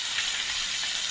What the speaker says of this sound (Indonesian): Ini satu di side ini juga dimatengin biar minyaknya ada crispy-crispy